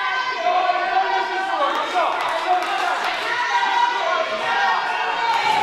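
A wrestling crowd in Dorothea Mitchell Hall, Claverden, shouts and cheers steadily through the stretch, rising in waves while a commentator talks over it.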